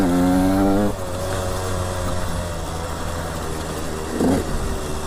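A KTM 125 SX two-stroke motocross bike runs unevenly, a loud revving burst dropping to a rough, wavering idle with a brief blip of throttle later on, no talk over it.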